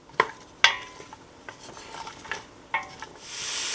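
Onions and carrots sautéing in a soup pot give a soft sizzle under sharp clinks and scrapes of a utensil stirring against the pot, a few distinct knocks spaced apart, with a rising hiss toward the end.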